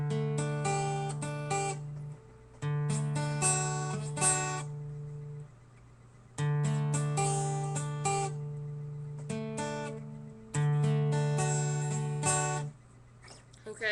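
Acoustic guitar plays the opening riff of a song, with repeated phrases of sustained low bass notes under bright picked melody notes, clear and close with brief gaps between passages.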